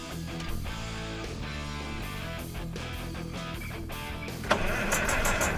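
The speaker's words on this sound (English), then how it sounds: "we're just ready to crank her over and see if we get another shot of ether and see if we can get it fired" An old Perkins six-cylinder diesel on a Massey 860 combine cranks over continuously, the starter churning loud and steady with rhythmic compression pulses and a brief catch near the end.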